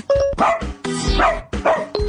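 A dog barks in a quick series of sharp, loud woofs and yips, close and clear, as part of a radio show bit.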